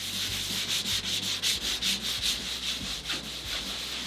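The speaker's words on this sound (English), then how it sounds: "do a lot of my sanding by hand rather than with a power sander." Hand sanding on wooden parts of an International 2.4mR sailboat, a steady back-and-forth scratchy rasp with even strokes, close up and alone with no voices.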